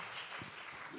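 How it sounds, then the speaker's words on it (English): An audience at a Korea-LAC business summit panel session applauds the panelists, a dense wash of clapping that is fairly faint and distant in a large hall. "Round of applause for the panelists."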